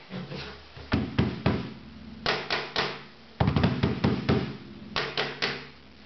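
Dry wooden thumps and slaps struck by hand in short grouped bursts, fairly loud and close, with no buzzing rattle behind the hits.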